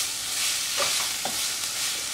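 Ghee sizzling steadily in a hot pan as bottle gourd fries, a soft broadband hiss with a couple of faint stirring knocks, no talking.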